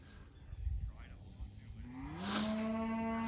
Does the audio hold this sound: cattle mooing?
yes